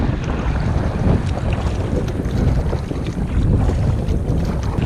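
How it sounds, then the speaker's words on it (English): Strong headwind buffets the microphone while a canoe is paddled across a lake in Algonquin Park as rain begins, giving a loud, gusting rumble mixed with splashing water and no voices. "Heading right into the wind at the minute, towards the portage."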